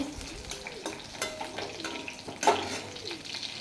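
Cumin seeds are stirred while frying in a pan, a close, steady crackling sizzle with soft scrapes and light taps of the spoon running underneath, no voices.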